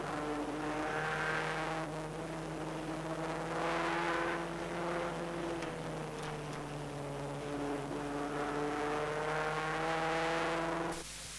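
Race car engines drone steadily through a 1988 production car championship race, with a camera car sliding sideways toward the old hairpin, their pitch rising and falling in long sustained sweeps that stay loud and continuous throughout.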